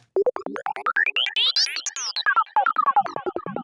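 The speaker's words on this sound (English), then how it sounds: "Hear those clicks the sound has?" An Access Virus synthesizer patch with the punch parameter at 50% plays a rapid sequence of short plucky notes, each with a clicky attack, the pitches rising and then falling.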